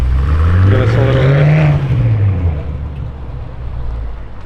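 A BMW X5M F85 with an FI exhaust revs nearby, a deep, loud rising and falling swell of engine roar with turbo spool, easing back to a rumbling idle.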